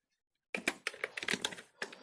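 Keys clatter on a computer keyboard as C code is typed, a quick irregular burst of close, crisp clicks after a half-second of silence, with a short pause before a final pair of strokes.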